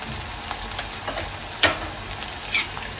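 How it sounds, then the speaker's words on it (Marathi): Chili powder and homemade masala sautéing in a pan, a soft steady sizzle with a couple of sharp scraping stirs, close and without talk. "ते सुद्धा व्यवस्थित परतून घेते"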